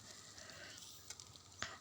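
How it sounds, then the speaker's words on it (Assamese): Soybean chunks fry in hot oil in a wok, a steady faint sizzle with light crackle and a couple of brief stirring scrapes, heard alone and close. "এতিয়া ইয়াত কেৰাহীত তেল দিলোঁ আৰু চয়াবিনখিনি দিলোঁ।"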